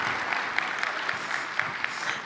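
Conference keynote audience clapping, a brief dense burst of applause from a crowd, even and sustained throughout without any speech.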